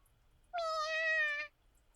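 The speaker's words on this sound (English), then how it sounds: "Sure enough, it's Aoi's kitten meowing from under the bench." In a video game, a kitten under a bench gives a single clear, drawn-out meow of about one second, heard alone against a quiet background.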